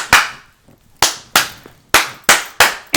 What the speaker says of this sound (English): Here come the clap.